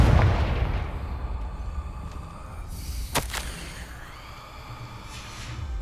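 A Confringo blasting spell in Hogwarts Legacy opens with a heavy booming explosion, followed later by a sharp crack and a rumbling tail fading under an ambient game score, with no speech.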